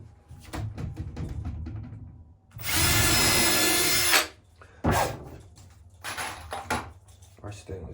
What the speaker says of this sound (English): I'm gonna pre-drill every hole so I don't damage any of the wood